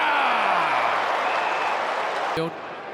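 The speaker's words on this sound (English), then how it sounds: "Geelong crowd get a bit of a buzz about them." Geelong crowd at an AFL football match giving off a loud, steady murmuring buzz that eases slightly toward the end, with a sharp whistle-like blast near the close.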